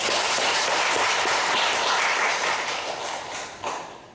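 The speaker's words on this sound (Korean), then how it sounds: "박수 한번 쳐요." A church congregation applauds during a Sunday afternoon service, a full, steady wash of clapping that fills the room, then thins slightly toward the end.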